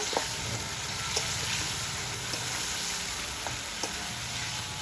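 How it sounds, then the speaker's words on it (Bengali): Fried hilsa fish pieces being stirred with spices in a pan, giving a steady close sizzle with soft, repeated scraping strokes throughout and no voices. "মাছগুলো একটু মশলার সাথে নাড়িয়ে নেব।"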